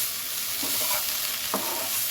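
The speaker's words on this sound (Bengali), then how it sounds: "শাকটাকে আবার একটু নাড়াচাড়া করে নিলাম।" Greens stirred in a hot pan, a brief close hiss of frying with a couple of soft spatula scrapes through the leaves.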